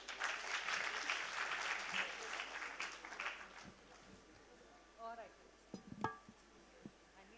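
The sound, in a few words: audience applause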